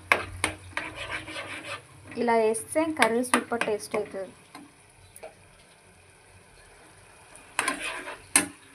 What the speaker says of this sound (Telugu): ఆనియన్ పేస్ట్ వేసాం కదా, మంచిగా వేగనివ్వాలి